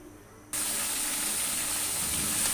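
Chicken for karahi hits a hot pan and bursts into a loud, steady sizzle that starts suddenly and holds as a close, continuous hiss.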